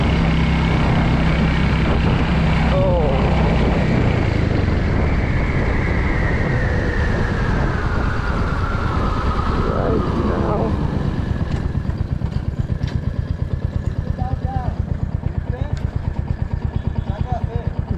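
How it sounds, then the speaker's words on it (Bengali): A motorcycle runs along a hill road with a steady, loud engine drone and rushing wind noise, the tone rising and falling with speed, close to the rider; a brief voice is heard. "চলছে এখন বাইক।"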